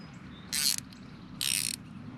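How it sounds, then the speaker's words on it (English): A ratchet wrench working on a 1999–2016 Ford Super Duty tailgate, giving two short bursts of rapid clicking, close and bright, separated by a brief pause. "because I've got this ratchet wrench"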